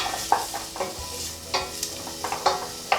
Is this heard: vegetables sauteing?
yes